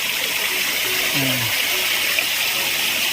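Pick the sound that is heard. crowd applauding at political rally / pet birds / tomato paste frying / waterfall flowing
waterfall flowing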